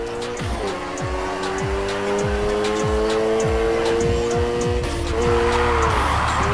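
A car drifting in the racing game NFS Heat: revving engine with repeated gear-shift sweeps and a long, loud tire squeal that builds and holds through the skid, no voices.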